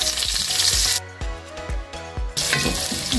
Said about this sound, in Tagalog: Ilalagay na natin ang ating aromatics. Bawang muna. Sibuyas.